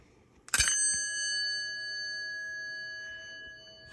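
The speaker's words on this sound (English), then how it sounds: "Over here, we have my Westinghouse dinner bell, and we'll go ahead and give it a ring." A Westinghouse elevator dinner bell is struck once, giving a sharp metallic strike followed by a clear, ringing tone that decays slowly over several seconds.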